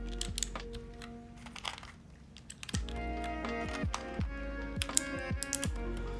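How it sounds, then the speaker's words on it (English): Fingers type on the ABS keycaps of a CW60 mechanical keyboard, giving close, quiet clacks, first sparse and then in quicker runs of keystrokes. "I wouldn't say it sounds like the other ABS keycaps that I've used"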